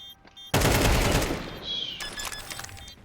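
A burst of video game gunfire starts abruptly and loud, a dense rattle of rapid shots that decays over a second or so, followed by scattered sharper cracks and clatter.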